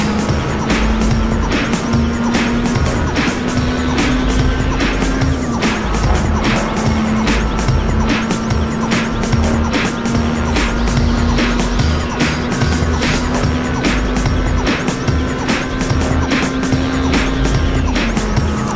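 Race car engine in the driving game Overspeed, a Clio-like hatchback revving to 8,500 rpm, droning at a steady high pitch with rapid regular ticking and tire noise, loud and constant without talk.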